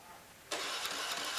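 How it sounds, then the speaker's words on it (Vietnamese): A Honda Lead 110 scooter with a fuel and ignition fault cranks and fires up after a short quiet stretch, its engine then running steadily with a broad, even noise and no talking over it. "bây giờ mình sẽ cắm vào để cho nổ máy nhá"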